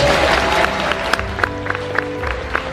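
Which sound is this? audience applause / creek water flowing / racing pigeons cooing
audience applause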